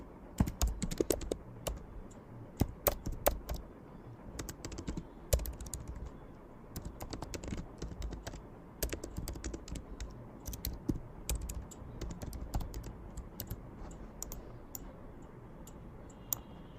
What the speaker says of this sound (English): I'm going to click on T and type want limitless.